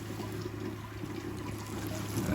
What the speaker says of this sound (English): So now I'm sparging, just using hot water